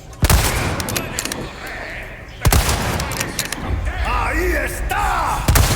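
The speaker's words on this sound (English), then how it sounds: "I'm gonna snipe this dude right here, just so I don't get grabbed" A sniper rifle shot in the video game Resident Evil 4 cracks loudly near the start, a second heavy blast follows, amid constant noisy game ambience with some whooshing tones, no talk.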